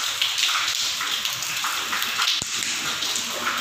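Steady rain falls outdoors on an evening in Odisha, a dense continuous hiss with soft patter and occasional sharper drips, fairly loud and alone without talk.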